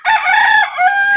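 A rooster crows once, loud and close, in a single drawn-out cock-a-doodle-doo on a rural farm where chickens are kept.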